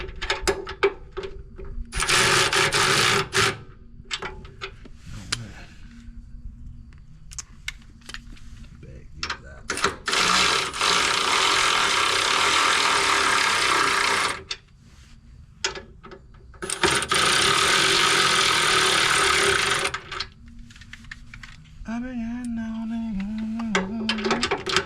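A ratchet wrench tightens brake caliper bolts in rapid clicking bursts, several spells of close, sharp ratcheting separated by pauses, ending with a short mechanical whir.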